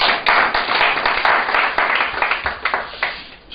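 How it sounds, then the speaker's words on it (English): A small conference audience applauds a speaker, with sparse individual hand claps in an uneven patter, fairly close and moderately loud, tapering off slightly at the end. "Let's give him an applause."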